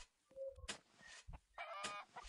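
Chickens on a Roblox Skyblock farm let out a few soft, scattered clucks and squawks. The bursts are short and irregular, with quiet gaps between them.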